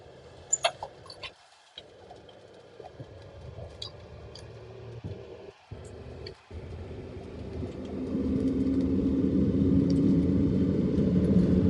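A Subaru Sambar dump truck on a test drive: a steady low engine and road rumble under a few faint chirps, swelling louder and fuller toward the end as it climbs.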